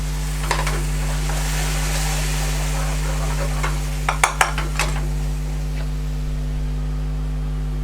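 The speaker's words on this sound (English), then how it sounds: "Once you've cooked off the garlic and ginger, then in with our tomato paste." Tomato paste is stirred into garlic and ginger frying in a pan, giving a steady close sizzle with a short cluster of spoon and pan clinks near the middle.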